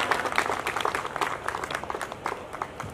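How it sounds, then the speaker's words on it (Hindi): An audience at a Diwali gathering applauds to welcome a poet, lively clapping with distinct sharp hand strikes forming an uneven, close, energetic patter. "आगे से पीछे तक जोरदार तालियां उठे"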